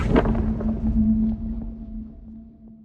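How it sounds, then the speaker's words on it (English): Unmastered magic cast and impact sound effect played together: a sharp hit at the start, then a rumbling, airy tail carrying a steady hum that slowly fades, heard alone with no speech. "now everything together with the cast and the impact"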